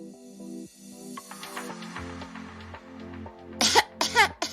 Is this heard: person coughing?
yes